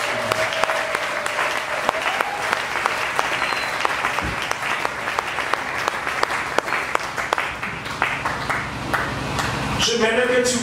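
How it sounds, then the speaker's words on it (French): A church congregation claps loudly and steadily in sustained applause, filling the room for several seconds, with a few sharp rings and voices mixed in near the end. "Est-ce que quelqu'un peut acclamer pour la parole de Dieu?"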